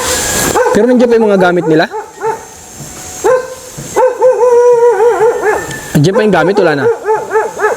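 Dog barking at an apparently empty house during a search, heard in bursts of yips and barks mixed under people talking nearby.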